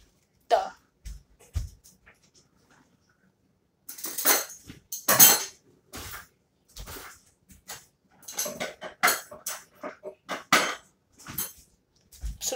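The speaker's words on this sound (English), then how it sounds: "I'm gonna have to stir this for a while." A metal spoon clatters and scrapes against a pot while a potion is stirred, in irregular clinks and knocks separated by quiet pauses, close and fairly loud, with scattered brief noises in between.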